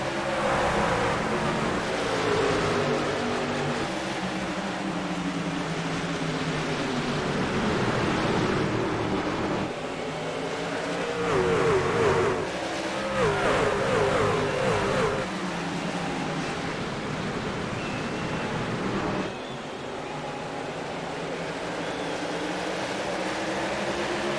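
A pack of race trucks in a racing video game roaring off the green flag at Richmond Raceway, a dense continuous engine drone with rising and falling revs as the field accelerates together.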